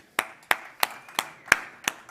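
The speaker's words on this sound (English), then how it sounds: "another round of applause for Eric" A small audience at a talk claps for a speaker named Eric: a sparse run of about seven sharp, evenly spaced handclaps, close and fairly loud, with no voices.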